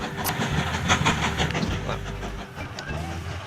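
A multi-headed coal train runs steadily in the railway-building game Mashinky, with a continuous low engine rumble and rhythmic clickety-clack of wheels on track. The sound stays sustained and fairly close throughout.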